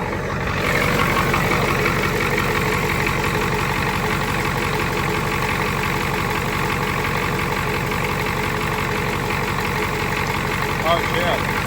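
A 6.9 IDI diesel engine with freshly serviced injectors and an added eBay turbo idles close by, a steady, loud rumble with a constant knocking clatter that runs unbroken throughout, no talk over it.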